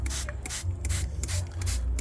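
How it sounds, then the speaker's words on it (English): A spray bottle mists potted Phalaenopsis orchids in a quick series of sharp, hissing spritzes, about eight close bursts in a steady rhythm. "So I spray down the orchids"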